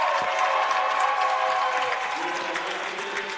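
A crowd at a Brooklyn College versus Lehman College women's volleyball match in the CUNYAC quarterfinals claps steadily in a gym, a dense wash of applause that holds throughout.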